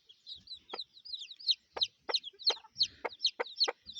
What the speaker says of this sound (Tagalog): Ewan ko kung ilan ang tandang dito.